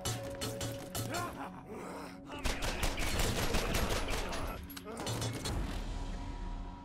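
Rapid gunfire rattles in bursts in the Borderlands video game, mixed with game effects, at a low, somewhat distant level.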